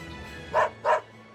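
A dog in the video game Tales of Berseria barks twice in quick succession, clear and close, over a faint background hum.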